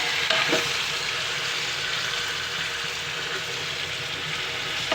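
Fish fries in a pan for fish curry, a dense, loud, even sizzle that holds steady throughout with a few faint clinks and no voices.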